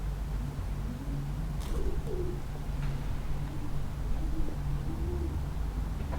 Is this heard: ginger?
no